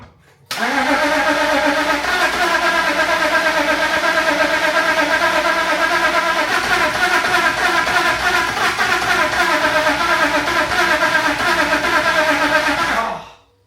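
An abandoned BMW E36's engine, freshly fitted with a new battery, cranks and catches, then runs steadily and loudly for about thirteen seconds before cutting off abruptly, close up with no talk over it.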